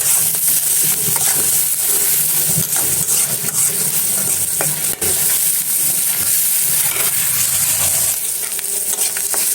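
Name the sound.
onions and prawns frying together in a pan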